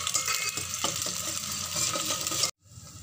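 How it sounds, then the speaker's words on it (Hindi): Onions and small green chillies frying and being stirred in a pan for a restaurant-style baingan aloo salan, a steady loud sizzle with scraping that cuts off abruptly near the end, leaving a fainter hiss. "अब हम प्याज और हरी मिर्च ऐड कर देंगे छोटी वाली जो हमारे पास थी। फ्राई कर लेंगे हम।"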